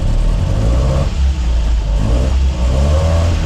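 A Land Rover Series 2 engine revs hard and loud up close, a rough, steady roar that rises and dips slightly as the throttle is held open, with no voices over it.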